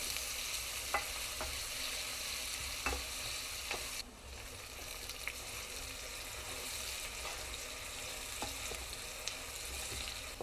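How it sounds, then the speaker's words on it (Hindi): Chopped onions sizzle steadily in oil in a pan for a Pakistani-style aloo qeema, with occasional scraping clicks of a spoon stirring them, fairly quiet and continuous, no speech. "और प्याज को लाइट ब्राउन होने तक पकाना।"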